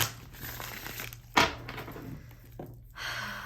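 Tarot cards shuffled by hand, a dense papery riffling and crinkling that runs throughout at close range, with one sharp louder snap partway through and no talk.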